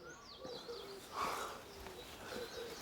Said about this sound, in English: Up there, a lovely male yellow-rumped flycatcher. That is a gem of a bird. He's singing his little heart out.